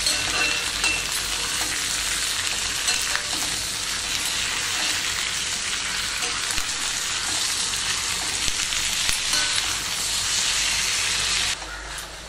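Tomatoes for tomato chutney sauté in a pan with a loud, dense, continuous frying hiss and sizzle, close up, with faint stirring and no talk, easing slightly near the end.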